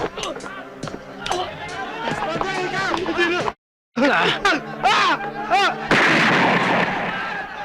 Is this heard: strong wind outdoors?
no